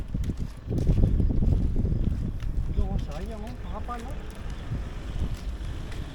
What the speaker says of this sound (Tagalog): Lamig daw. Lakas na kasi hangin.